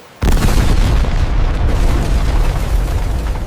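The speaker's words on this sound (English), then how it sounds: "On the night of February 15, 1898, the Maine exploded." A huge explosion sound effect standing in for the blast aboard the battleship USS Maine in 1898, bursting suddenly after a short silence into a loud, sustained low rumbling roar.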